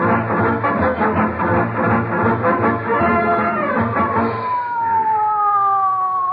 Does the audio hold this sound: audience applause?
no